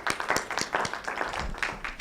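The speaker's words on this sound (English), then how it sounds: "Let's clap for her." Scattered, moderately quiet clapping from a congregation at a human rights media conference, uneven individual claps rather than a full ovation, lasting about two seconds.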